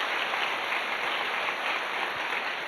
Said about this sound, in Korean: 박수 한번 해주시면 좋겠습니다.